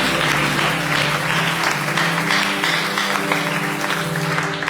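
A church congregation breaks into steady, loud applause during a worship service, dense clapping that runs the whole time with a few voices mixed in.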